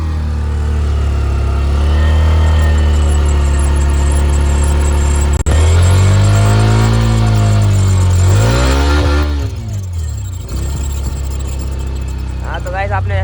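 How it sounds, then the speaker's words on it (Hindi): A Hero Xtreme 125R motorcycle engine idles loudly up close, revving up and settling back, with a faint grinding whir from the disc underneath and a voice talking over it. "बाइक स्टार्ट हो चुकी है"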